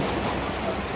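Water rushes and churns in a canal lock around a boat, a dense, continuous roar close by with no pauses or voices.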